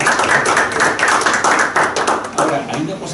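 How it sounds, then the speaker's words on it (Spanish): Applause at a Spanish-language academic session, dense clapping running steadily through the whole stretch at close range, with a brief dip near the end before picking up again. "Un aplauso."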